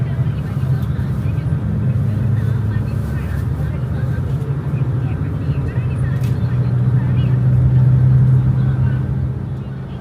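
A PO Laju Prima business-class bus on the Jambi–Jakarta route drones along the road, with a loud, steady low engine and road rumble filling the cabin throughout.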